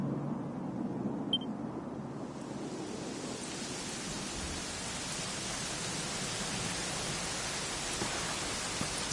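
Rain in the video game Dragon Quest XI, a steady even hiss of falling rain that rises in after a quieter opening and holds evenly throughout.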